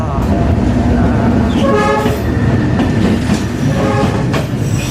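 A train rumbles past close by through Hanoi's narrow train street and sounds its horn in several long blasts over the heavy, continuous roar of the cars.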